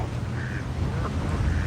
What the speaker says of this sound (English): Got a lot of birds here.